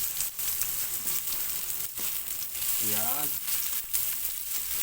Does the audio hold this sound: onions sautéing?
yes